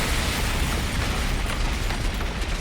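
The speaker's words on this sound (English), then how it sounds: "She went kaboom!" A sustained, loud, broadband roar like a big video game explosion, dense rumble filling the whole stretch evenly without a clear onset or decay, no voices over it.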